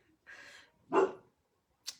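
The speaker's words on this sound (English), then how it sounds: "She hear the dogs barking on the song." Dogs bark within a song playing in the background, giving a couple of separate bursts about half a second apart, with a brief sharp sound near the end.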